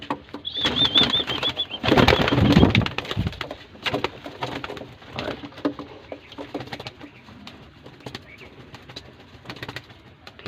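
Golden pigeons coo nearby, and a loud burst of flapping wings rises early on. Shuffling and light knocks follow through the rest.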